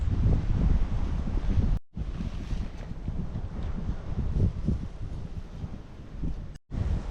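Strong wind roars and buffets the microphone continuously, with loud low rumbling gusts and two brief dropouts.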